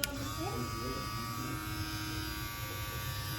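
Stylecraft Saber hair clipper with a brushless motor runs with a steady, close electric buzz and a high whine from start to finish, while a person talks briefly over it.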